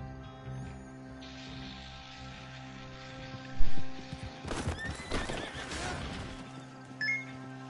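A horse in the video game Horse Simulator 2019 lets out a loud whinny amid clip-clopping hooves and scattered clattering game effects over a steady low background hum.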